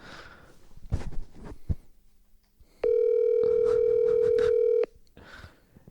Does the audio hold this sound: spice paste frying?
no